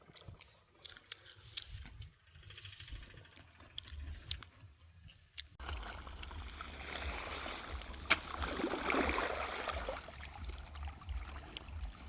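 Irrigation water gushes in a steady full flow through a farm field channel, a broad rushing wash that starts abruptly midway and holds loud and close to the end, after quieter outdoor sounds.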